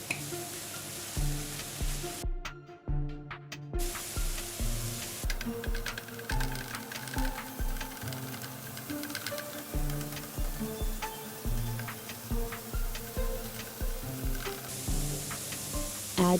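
Chopped onions, peppers and garlic fry in a pan for a Turkish Alinazik kebab, giving a steady close sizzle with scattered clinks and stirring sounds.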